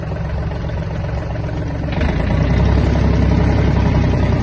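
Yanmar RS-24 Japanese mini tractor engine running steadily as it pulls away, the low rumble growing louder and heavier about two seconds in, continuous and close with no talk.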